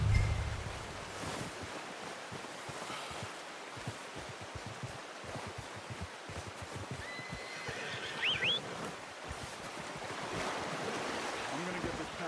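A horse in the video game Red Dead Redemption 2 gives a brief whinny midway, faint against steady wind and surf-like ambience, with a heavy thump at the start.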